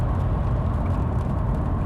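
A 2019 Volkswagen T-Cross with a 95-horsepower engine driving on the road, heard as a steady low engine drone and road rumble from inside the cabin, continuous and even throughout.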